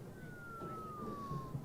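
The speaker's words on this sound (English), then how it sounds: "And I hear a siren in the background." A distant siren heard from the stands at a homecoming high school football game, a single faint wailing tone sliding slowly downward over low crowd and ambient noise.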